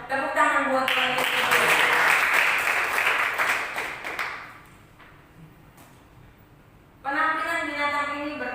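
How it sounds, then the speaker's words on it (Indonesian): Congregation in a church service applauding together, a dense burst of clapping lasting about four seconds and then fading, with speech in the gaps before and after. "Tepuk tangan buat Yesus."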